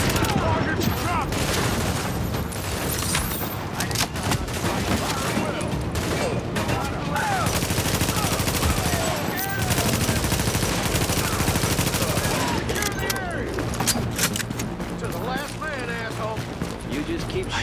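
Sustained heavy gunfire in The Division shooter, continuous rapid automatic bursts and booms filling the whole stretch, loud and close, with voices talking over the shooting.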